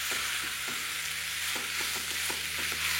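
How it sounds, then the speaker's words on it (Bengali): Small marinated chicken pieces fry in a pan over a medium flame, a steady, dense sizzle with soft stirring taps that recur across the clip and no voices. "তারপর ফ্লেমটাকে মিডিয়াম রেখে এটাকে ভালো করে কুক করতে থাকুন, যতক্ষণ না চিকেনটা একদম পারফেক্টলি কুক হয়ে যাচ্ছে।"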